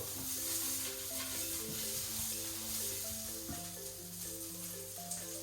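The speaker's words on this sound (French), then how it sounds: "On va faire sauter un petit peu." Steady sizzling of food sautéing in a hot pan, a continuous crackle with faint stirring, close and fairly loud throughout.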